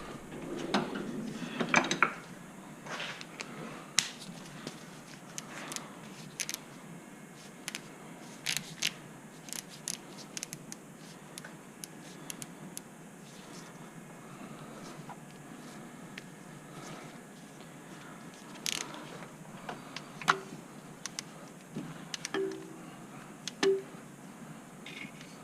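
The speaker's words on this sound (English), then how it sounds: "Okay, torque wrench time." A torque wrench works on the intake manifold bolts of a Chevy 4.3 engine in an S10 Sonoma, giving scattered metallic clicks, clinks and ratcheting taps spread over a quiet garage background.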